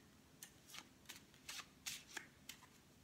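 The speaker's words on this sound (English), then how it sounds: "I'm just going to shuffle the cards" Tarot cards are shuffled close by in a series of soft, crisp riffles, about eight quick flutters spaced fairly evenly over a quiet background.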